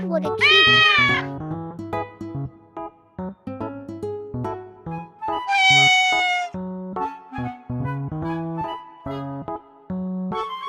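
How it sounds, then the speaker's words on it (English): A cat meows in two drawn-out, high, wavering cries early and midway, loud and close, over a background of music. "What a cute cat!"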